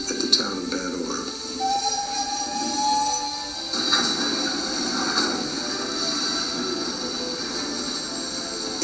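A German army train pulls out of rail yards in a film excerpt, with a steady rumbling, hissing mechanical drone, a brief high wheel squeal early on and surges of clatter partway through, fairly loud throughout with no talk.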